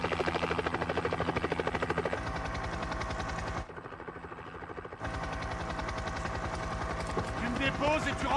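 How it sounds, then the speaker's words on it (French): A helicopter roars overhead in a war action film, its rotor chop loud and steady and briefly dropping away before returning, with gunfire-like bursts mixed in and voices shouting over it. "C'est son hélico!"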